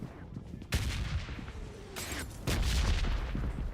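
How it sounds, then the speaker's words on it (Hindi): Gunfire rings out from an apartment in the video game PUBG Mobile, with several sharp shots and bursts cracking over a steady background, some close and loud, others more distant. "अपार्टमेंट से गोली चल रही है"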